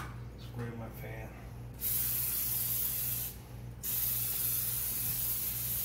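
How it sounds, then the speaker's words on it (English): Cooking spray hisses from an aerosol can onto a sheet pan in two loud bursts in a home kitchen, preceded by a brief moment of talking. "So just spray your sheet pan."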